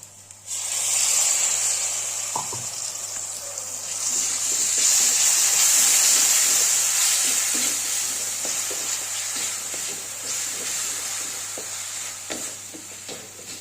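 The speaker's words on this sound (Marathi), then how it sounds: "कांदा करपू नये आणि मसाला हा यातला करपू नये म्हणून अगदी थोडंसं पाणी घालायचं" Onion and masala frying for mutton keema sizzle steadily in the pan, with a splash of water added that swells into a louder hiss, punctuated by the scrape and clink of stirring.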